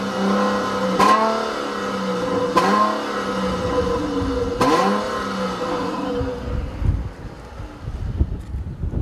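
A 2014 Chrysler 300C with a V6 engine revs three times in quick succession, each rise and fall sweeping clearly, before settling into a steadier drone with wind buffeting the microphone. No one speaks.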